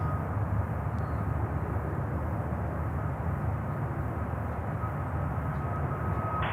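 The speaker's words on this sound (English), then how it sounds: "That's a 321. Looks like a Neo. That looks like a Neo. Perfect. Taking off here on 31 center" An Airbus A321neo takes off on runway 31 center, filling the scene with a loud, continuous jet engine roar that stays steady, with no voices.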